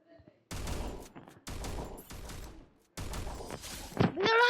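Gunfire in a video game shooter, several dense bursts of rapid shots separated by short gaps, loud and close, ending in a rising electronic tone.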